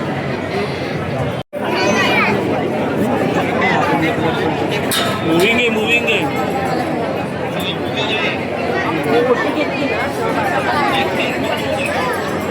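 A dense crowd of devotees queues at Mahalaxmi temple in Kolhapur on a busy holiday, filling the space with steady chatter, babble and occasional clinks, with voices talking nearby throughout.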